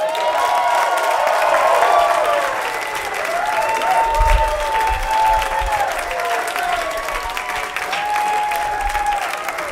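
Comedy club audience at a live show bursts into loud, sustained applause and scattered cheers after a comedian's set, with the clapping dense at first and tapering slightly over several seconds.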